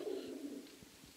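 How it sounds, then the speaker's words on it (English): Pigeons inside an abandoned church in Belgium give a brief, low, soft coo that sounds slightly reverberant in the empty space. "as you can see, a lot of pigeons."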